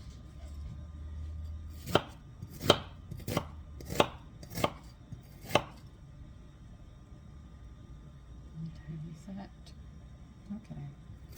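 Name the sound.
chopping food with a slicer knife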